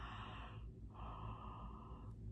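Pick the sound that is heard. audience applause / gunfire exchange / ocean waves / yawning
yawning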